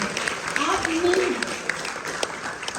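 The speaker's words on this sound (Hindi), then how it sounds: "एक बार फिर ज़ोरदार तालियां ज़फ़र मुहिउद्दीन को" An audience at an Urdu musical play about Mirza Ghalib in Mysuru, staged by the Karnataka Urdu Academy, gives actor Zafar Muhiuddin a brief burst of dense clapping while a voice speaks over it.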